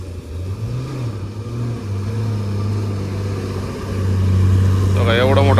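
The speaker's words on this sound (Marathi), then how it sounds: "आता बस आहे ते बघा बस हा टर्न मारायला किती प्रॉब्लेम येतो बघा" A long bus manoeuvres through a tight turn on a steep ghat road. Its engine labours with a deep, steady drone that swells and grows louder toward the end, and voices can be heard faintly nearby.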